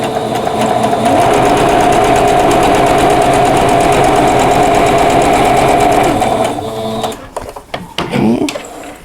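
A sewing machine stitches a seam on a Sawtooth Star quilt block, running loud and steady with a fast rhythmic whir for about seven seconds, then stopping abruptly, leaving a few scattered handling clicks.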